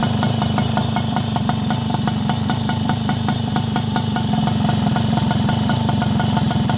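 A Yamaha Galaxy scooter engine idles after a cylinder and piston change, running as a steady close rapid putter with a regular rhythmic beat and no talking.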